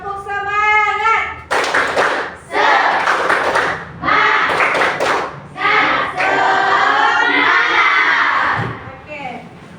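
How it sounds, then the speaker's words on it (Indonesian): A classroom audience performs the 'tepuk semangat' spirit clap, rhythmic bursts of group clapping alternating with shouted chant phrases, following a brief spoken lead-in. "Coba semuanya tepuk semangat."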